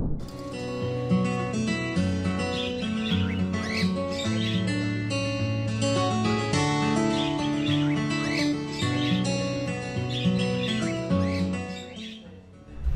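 Pet cockatiels and lovebirds chirping and calling continuously, a dense overlapping chorus of bright tweets and squawks close by, with no talking.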